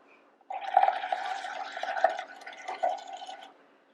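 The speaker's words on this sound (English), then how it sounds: "you want to exhale into the cup and blow some bubbles" Air blown through a straw into a cup of soapy liquid makes continuous close bubbling and gurgling that lasts about three seconds and then stops.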